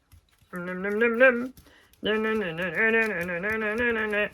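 A sewing machine running in two bursts, a steady mechanical whir with a pitched hum, pausing briefly before stitching again.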